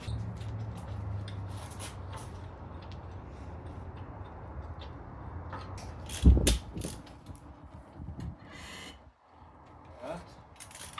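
A ratchet tightens the last bolt on a Canadian Tire Maximum engine stand in a series of short clicking bursts with a sharper metallic clank midway, while a person talks intermittently.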